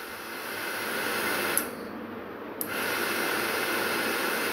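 A homemade DIY vacuum cleaner powered by a 12-volt battery gives a steady airy hiss. The hiss dips briefly in the middle, marked by small clicks, then resumes at full strength.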